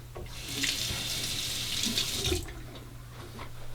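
Water runs steadily from a bathroom tap as a razor is rinsed under it, a continuous splashing hiss for about two and a half seconds that then cuts off, with no talking.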